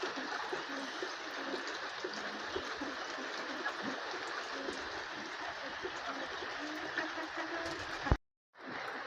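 Steady heavy rain pours down in a constant hiss, with a soft pigeon coo, a brief knock and a moment of silence near the end.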